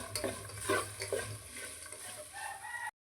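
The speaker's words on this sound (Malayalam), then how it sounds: "ഇത് നല്ലോണം ഇളക്കി വാട്ടിയെടുക്കുക" Onions sautéed with green chilli, ginger, curry leaves and coconut slices being stirred in a pan, a soft continuous sizzle with scraping spoon strokes near the start, fading to a gentle hiss.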